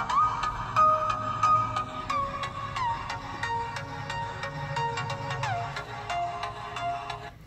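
A tinny ringtone melody plays steadily from the small speaker of an Alcatel A30 Fierce phone at high volume, with repeated sharp tones over a faint background hum.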